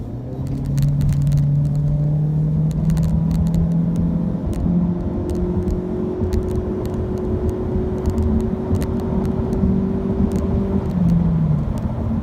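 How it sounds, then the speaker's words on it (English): A 2018 Ford C-Max hybrid accelerates, giving a steady, loud cabin drone and whir with rising engine tones over constant road rumble, heard from inside the car. "So we're going to do a little acceleration on here."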